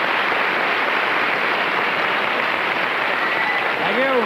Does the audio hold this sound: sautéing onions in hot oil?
no